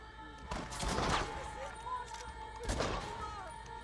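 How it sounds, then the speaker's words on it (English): Buffalo rifle gunshots in the video game Red Dead Redemption, two sharp, loud cracks about one and a half seconds apart, each trailing off in a short echoing tail over a low ambient rumble. "Buffalo rifle works pretty good."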